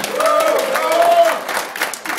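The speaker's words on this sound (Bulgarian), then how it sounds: "Аплодисменти за клуб Самоков." Applause at an offroad club gathering, clapping for a club from Samokov, dense and steady for about two seconds with voices talking over it.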